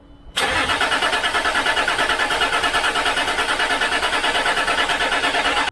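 A Land Rover Discovery engine cranks and fires, then settles into a loud, steady, rhythmic running note. It is close up and continuous until the clip ends, with no voices.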